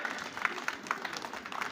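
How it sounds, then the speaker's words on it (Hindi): An audience at a welcome ceremony claps in a dense, steady patter that holds throughout, with a murmur of voices underneath. "जोरदार तालियां साथियों,"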